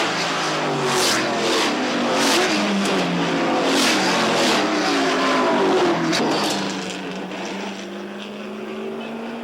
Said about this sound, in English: Lots of cars, racing wheel to wheel.